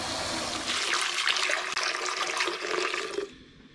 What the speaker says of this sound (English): now I'm going to put 2 litres of warm tap water into each of the AirSteels